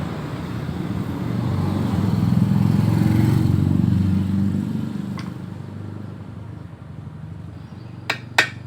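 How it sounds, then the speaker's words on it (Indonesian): A hammer drives the clutch rubber of a Yamaha Jupiter Z motorcycle into place. After a passing vehicle rumble fades, a few sharp, isolated metallic strikes ring out close by, the last ones coming in quick succession. "kita pukul-pukul menggunakan palu ya, sampai benar-benar rapat untuk kelingnya ini"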